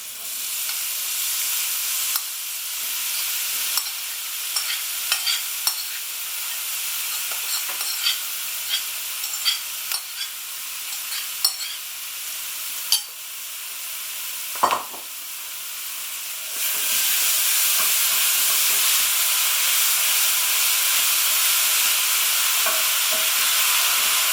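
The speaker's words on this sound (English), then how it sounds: "I'm going to add the soya mince. Just going to chuck it all in." Soya mince frying in a hot pan for a vegetarian chilli, a continuous sizzle with scattered stirring clicks and scrapes, growing louder and steadier in the final stretch.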